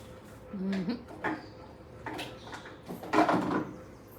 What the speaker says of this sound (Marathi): सगळं ड्रॉवर उचकतो बाबा